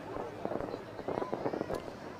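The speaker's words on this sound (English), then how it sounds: "Look at those fireworks in the sky" Fireworks bursting over a night balloon fiesta crowd, a rapid run of sharp cracks and booms from a distance, continuous and fairly loud, with people talking underneath.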